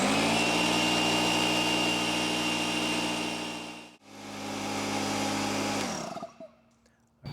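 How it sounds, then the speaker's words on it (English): An AstroAI tire inflator air compressor drones loudly and continuously with a steady motor hum, dips briefly near the middle, resumes, then winds down and cuts off toward the end, up close. "we're going to turn on the air compressor and wait till it fills up to about 50 psi"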